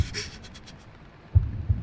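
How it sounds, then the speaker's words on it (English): A muffled heartbeat effect from a short film of Poe's The Tell-Tale Heart: two low, dull thumps land near the end after a faint hum and a few soft rustles, close and alone. "the heart beat on with a muffled sound"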